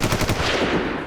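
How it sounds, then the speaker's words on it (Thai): A gun fires a rapid burst of loud, closely spaced shots as a dramatic sound effect in a Thai horror story, the reports running together within about a second. "ดาหันปืนกลับมายิงอีกครั้ง"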